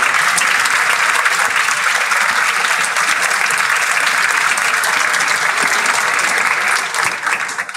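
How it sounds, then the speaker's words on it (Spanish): Crowd at a provincial legislature event gives loud, sustained applause, a thick continuous wash of clapping that holds for several seconds before thinning slightly at the end. "también pido un fuerte aplauso"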